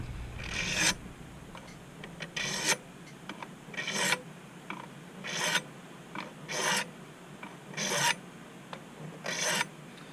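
A workpiece screwed to a block clamped in a vise is smoothed with a file, in about six steady rasping strokes spaced a second or two apart, close and distinct, with no talking.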